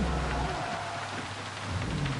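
Steady rain in the racing video game Gran Turismo 7 hisses as a dense wash of noise over a low rumble, continuous and fairly soft throughout the short stretch.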